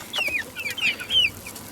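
Hens in a farmyard enclosure clucking softly, a few short, high, separate calls scattered over a couple of seconds against quiet background noise.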